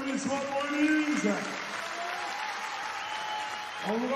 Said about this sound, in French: applaudissements pour Élise.